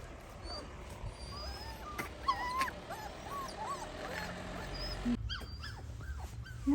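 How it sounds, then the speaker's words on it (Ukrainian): Puppies whimpering in a series of high, thin squeaks and whines, soft and close, over a low background hum. "Знайшлися найдені цуценята"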